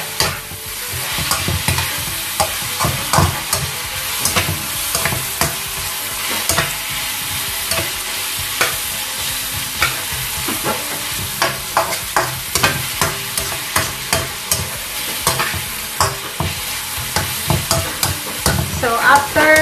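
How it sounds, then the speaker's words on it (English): Fresh garlic and bay leaves sautéing in a pan, a steady loud sizzle with frequent scraping stirs throughout, no voices. "2 to 3 minutes of sauteing the fresh garlic that I put"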